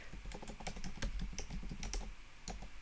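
Someone types steadily on a computer keyboard while entering a recipe name into a meal-planning app. The keystrokes come as a quiet, rapid, uneven patter with no voices.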